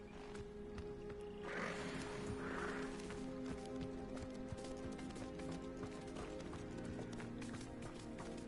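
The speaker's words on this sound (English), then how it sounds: "Come back, pretty horses." Horse hooves pound in a steady galloping rhythm in the video game Hogwarts Legacy, over a dense bed of game music and ambience, with brief louder bursts early on.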